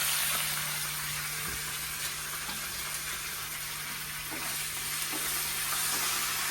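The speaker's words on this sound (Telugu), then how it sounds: "ఒకసారి కలుపుకోవాలి." Garlic pickle fries in a pan with a steady, close sizzle while a utensil stirs it, adding faint intermittent scrapes and clicks throughout.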